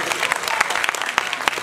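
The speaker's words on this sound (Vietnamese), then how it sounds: "mọi người vỗ tay cho chị Vân ạ." Audience applause at a Vietnamese film press conference, given for actress Hồng Vân as she leaves: dense, steady clapping from a room of people, fairly close, with a few sharper individual claps standing out.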